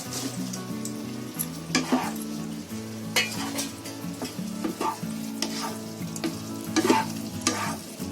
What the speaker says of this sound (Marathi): आता मी परत फुल गॅस करते आणि चांगले आहे ना ढवळून घेते.